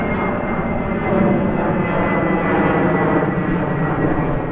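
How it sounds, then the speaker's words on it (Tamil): A steady, loud roar of an airplane's engines heard from inside the cabin while landing at Tel Aviv, a constant rumbling drone without speech. "டெல் அவீவ் நகரத்துல நம்ம விமானம் தரையிறங்கும் காட்சியை நீங்கள் தற்பொழுது"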